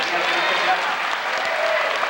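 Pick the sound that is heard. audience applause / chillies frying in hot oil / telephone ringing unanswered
audience applause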